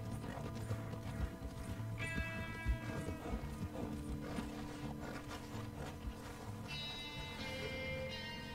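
A horse gallops in Red Dead Redemption 2, with a steady run of hoof clip-clops under a low ambient bed and a few brighter chiming game sounds, moderately quiet and with no talking.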